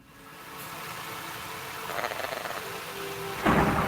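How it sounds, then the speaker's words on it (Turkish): Rain and rolling thunder fill a video game world, a steady broadband hiss of rainfall with rumbling swells near the middle and a sharp loud crack near the end. "Şu an ortam biraz yağmurlu."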